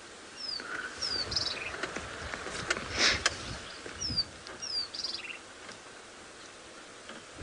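A bird calls a sharp, repeated zit-zit on an early-morning safari drive at Djuma, thin high notes sounding intermittently over faint ticking insects and bush ambience.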